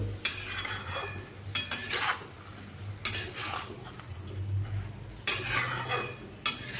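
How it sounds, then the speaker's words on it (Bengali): Bottle gourd pieces frying in a pan with salt and turmeric, a soft sizzle under repeated bursts of spatula stirring and scraping against the pan, close and without talk. "আমি এবার এগুলোর সঙ্গে নুন হলুদ ভালোভাবে মিশিয়ে এগুলোকে একটু ভেজে নেব"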